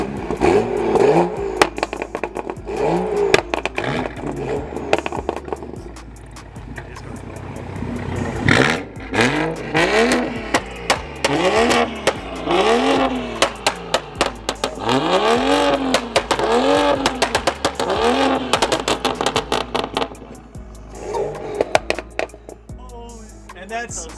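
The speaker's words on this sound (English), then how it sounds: "It's a rev battle." BMW M2 (F87) engines revving hard in a rev battle, repeated sharp rising and falling blips with popping crackle between them, loud and close, building in pace midway, with voices now and then.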